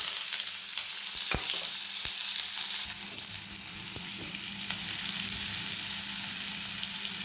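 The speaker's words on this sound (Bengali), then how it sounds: "পেঁয়াজটা তেলে দিয়ে দিলাম।" Chopped onion sizzles steadily in hot oil while a lentil dal with drumstick leaves is being cooked, a constant bright hiss with a few sharp pops and clicks close by.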